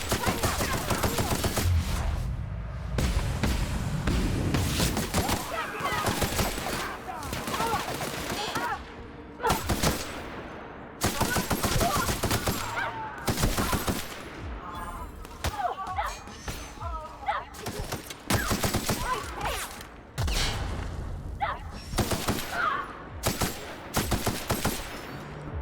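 Video game gunfire exchange with dense, near-continuous bursts of automatic shots and rapid cracks over a full soundtrack, interrupted by brief lulls, while a player talks at times.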